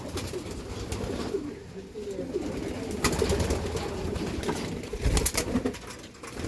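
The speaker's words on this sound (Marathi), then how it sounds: "तर हे रेसिंग कबूतर बघू शकता तुम्ही, जास्त क्वांटिटीमध्ये" A large flock of racing pigeons in a loft coos in a continuous low, overlapping rumble, with occasional sharper clicks and bumps nearby.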